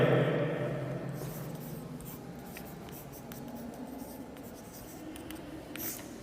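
A pen or pencil scratches steadily across paper while a tree diagram is written for an algebra exercise, with soft continuous strokes close by and no voices.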